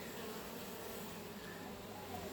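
Honeybees hum in an opened beehive during a hive remodel, a faint, even, continuous buzz with no break.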